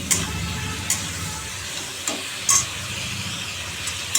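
Bitter gourd and pumpkin sizzle softly in a pan, with a few sharp scraping stirs of a spatula breaking through the steady frying hiss.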